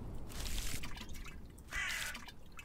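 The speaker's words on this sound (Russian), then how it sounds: "А, это у нас магическая лейка" Water splashing and dripping from a magic watering can onto crops in a spooky farming video game, a near, continuous trickle with a brighter burst of pouring toward the end.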